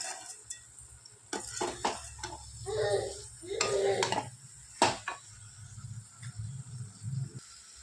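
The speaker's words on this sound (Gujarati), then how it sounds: "જો આપણે ચાસણી બધી એકદમ મિક્સ થઈ ગઈ છે મસ્ત હજી આપણે થોડીક વાર હલાવશું" Sugar syrup and boondi for motichoor ladoo being stirred in a pan, with utensil scrapes and clinks in uneven strokes and a few louder knocks, while a voice talks quietly through parts of it.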